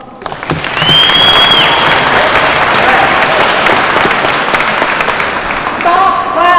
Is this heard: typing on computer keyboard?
no